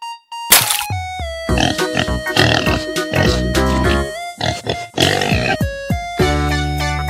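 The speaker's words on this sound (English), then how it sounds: "Pink pig." Several short grunting oinks and snorts in a row, close and loud, set among bright tonal music or toy-like sound effects.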